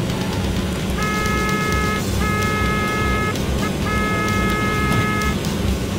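Three long blasts of a car horn in Need for Speed II on PlayStation, during a race between an Italdesign Cala and a Jaguar XJ220 on the North Country track, sounding over constant loud engine and road noise.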